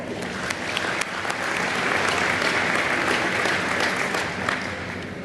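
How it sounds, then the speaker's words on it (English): Sustained applause from a crowd at an agricultural alumni fish fry, many hands clapping in a dense, even wash that holds steady throughout, with no talk over it. "Let's give them another nice round of applause."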